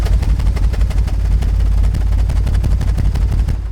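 Audi V6 exhaust heard from behind the car, running rough at idle with an uneven, pulsing, misfiring beat, loud and close throughout, with no talking.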